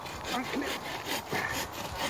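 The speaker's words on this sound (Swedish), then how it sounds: "Men den där sågen är okej," A hand saw cuts through wood outdoors at a hillside fire gathering, giving quick rasping back-and-forth strokes at close range in an even rhythm.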